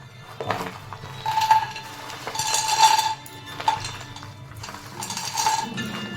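Chickpeas, makhana, almonds, cashews and walnuts drop into a kadai on a lit gas stove with bright clinks and rattles, in several separate pours, close and clear with no talking.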